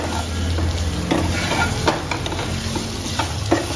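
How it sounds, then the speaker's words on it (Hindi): Spiced gram flour and potatoes are stirred in a pan over a low flame for a dry potato sabzi, giving a steady close sizzle broken by repeated scraping strokes of the spoon. "इसको अच्छे से हिला लेंगे और मिक्स कर लेंगे"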